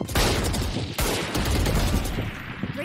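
Raze grenade explosion in Valorant, a loud close burst followed by a rapid flurry of cracking blasts, then a second sharp detonation about a second later and a chaotic crackling tail.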